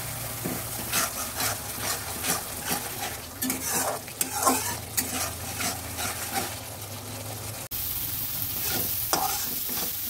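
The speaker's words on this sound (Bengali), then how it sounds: "আমি সুন্দর করে নেড়ে চেড়ে মশলাগুলো ভেজে নিয়েছি" Spice paste for a tilapia curry is stirred and fried in a pan, with repeated scraping strokes of a utensil against metal over a continuous sizzle and a low hum, close and loud.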